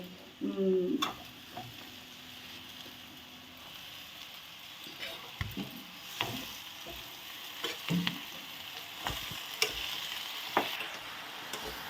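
Tella gurijala greens frying in a pan, with irregular stirring scrapes and clatters over a faint hiss, close by, and occasional talking in the background.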